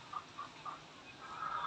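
Rhode Island chickens cluck in a backyard flock, giving a few short, evenly spaced clucks followed by a longer, louder run of calls, at moderate distance with no talking.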